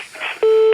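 A steady telephone line tone comes in halfway through a phone call to a cable provider, loud and constant for about a third of a second after a stretch of faint background murmur.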